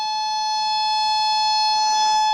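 Steady 800 Hz tone from a signal generator in a Kundt's tube experiment: a continuous loud pure hum with strong overtones, unbroken and slowly swelling slightly over low background noise.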